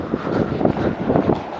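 Strong snowstorm wind in Hokkaido roars and buffets the microphone in a loud, continuous rumble with gusty surges.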